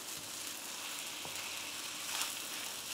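Egg fried rice sizzling in a pan as it is stirred with soya sauce, chili sauce and vinegar; a steady hiss with a couple of faint scrapes.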